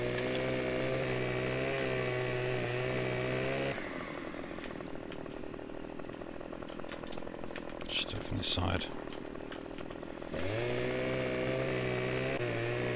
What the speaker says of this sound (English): I think you have to have the chainsaw at the right angle